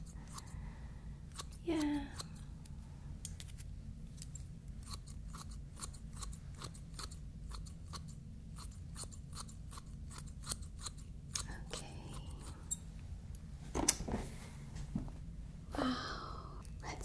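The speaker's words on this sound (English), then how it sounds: "Use different scissors here for the other side." Crisp, rhythmic snips of scissors cutting hair repeat steadily close by, with occasional soft sounds and a brief spoken word.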